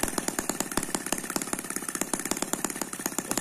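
An M12C twin-cylinder model engine runs with a fast, even, close and loud stream of sharp firing pulses and no talk.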